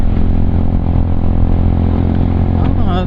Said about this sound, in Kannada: ಗೇರ್ ಗಾಡಿ